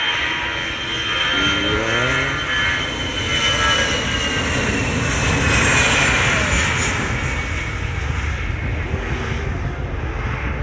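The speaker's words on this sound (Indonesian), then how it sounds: "Ini saya tampilkan pesawat terbang teman-teman, Air Asia teman-teman." An Air Asia airplane's jet engines at Sultan Iskandar Muda airport in Aceh, a loud continuous roar with rising whine, steady throughout and heard from nearby outdoors.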